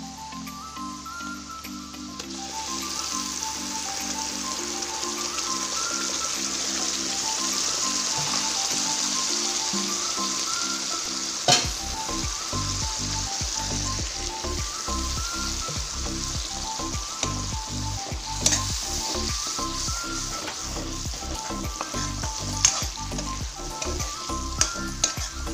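Onions fry in a pan until reddish, sizzling steadily with a bright hiss, while a utensil scrapes and stirs in repeated clattering strokes during the second half; no one speaks.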